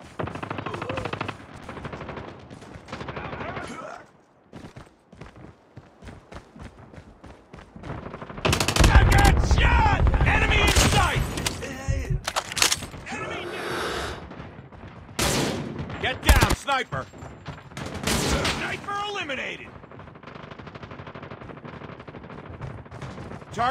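Rapid bursts of automatic and single gunfire from a Call of Duty match crackle loudly, in clustered volleys with short gaps, while game voice lines sound between the shots.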